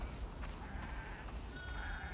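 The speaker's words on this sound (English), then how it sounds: "We definitely have way too many sheep." Sheep bleating on a farm in the video game The Last of Us Part II, a faint drawn-out bleat rising over steady low ambient rumble, alone with no talk.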